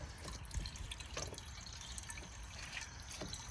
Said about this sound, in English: it's gonna take a minute since I got the water on with the hose